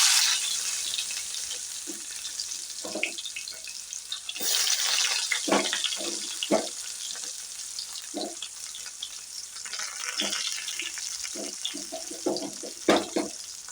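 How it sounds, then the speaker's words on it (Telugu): Onion pieces dropped into hot oil in a kadai for an ivy gourd fry, a continuous close sizzle with scattered clinks and scrapes of stirring throughout. "ఇప్పుడు ముందుగా మనం ఉల్లిపాయ ముక్కలు వేస్తున్నాం"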